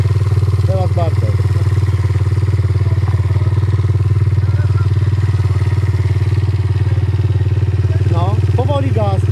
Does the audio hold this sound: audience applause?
no